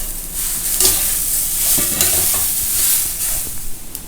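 Washed puffed rice is stirred and mixed in a pan, giving a close, continuous scraping and crackling rustle with a few sharper clinks of the spoon.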